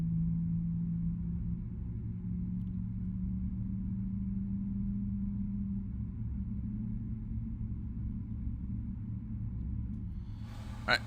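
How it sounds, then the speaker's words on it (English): A PMDG 777's left engine spools up in the MSFS 2024 flight simulator: a steady low rumble with a sustained mid hum, constant and close throughout, ending with a brief sharper burst near the close. "sounds like we got a good start on the left engine as well"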